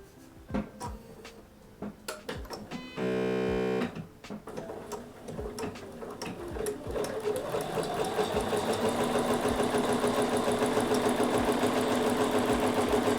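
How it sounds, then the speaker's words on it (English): A sewing machine stitches quilt pieces with right sides together, starting with short bursts and clicks, then running steadily in a fast, even mechanical whir that builds and holds, close and fairly quiet. "And you just sew it from inside to inside."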